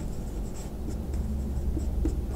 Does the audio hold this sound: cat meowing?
no